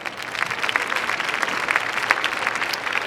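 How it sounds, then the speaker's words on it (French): Warm applause from a crowd, steady clapping throughout at moderate volume with no voices over it. "vous méritez une chaleureuse main d'applaudissements"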